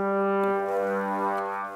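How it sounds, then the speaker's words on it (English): A trombone from the Spitfire Audio Symphonic Brass library holds one full, rich note, steady and close, with nothing else around it. "the trombone sound that I've identified here sounds like this"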